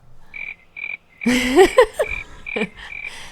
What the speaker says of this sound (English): You know when the crickets come in, it's time to end the show.